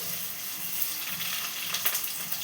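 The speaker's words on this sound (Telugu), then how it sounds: "కొంచెం ఆవాలు వేసుకుందాం." Mustard seeds sizzle in hot oil with a steady, dense frying hiss and a few faint pops near the end.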